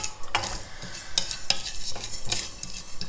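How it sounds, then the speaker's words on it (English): Dals, black pepper and spices are dry roasted in a pan with no oil, giving a rattling, scraping stir of dry grains and several sharp clicks of spoon against pan, close, quiet and without talk. "We'll dry roast them till the dals and spices are well roasted."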